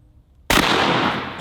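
A double barrel shotgun loaded with slug and double-aught buckshot fires both barrels at once outdoors, one sudden heavy close blast that rings out into a long rolling echo, no talking.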